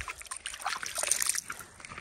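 Hands are washed in clean, cold spring water on a Nepali mountain trail, with a brief soft splashing and trickling of water close by.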